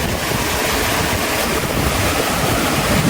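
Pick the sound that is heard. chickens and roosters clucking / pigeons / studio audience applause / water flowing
water flowing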